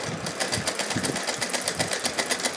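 Sewing machine stitching a thin lace trim onto a dress, running steadily with a fast, even mechanical rhythm at close range, nothing else heard.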